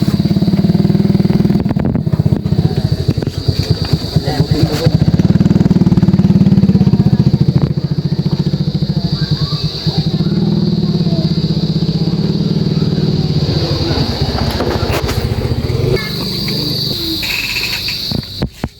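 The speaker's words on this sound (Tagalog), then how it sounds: "Ala, may motor." A motorcycle engine runs close by, a steady buzzing rumble that revs and fluctuates, with insects chirping faintly in the background.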